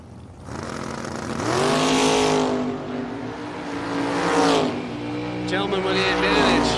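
Corvette drag race car launching and accelerating hard down the strip, a loud rising engine roar that peaks, dips and climbs again, with a track announcer's voice over it.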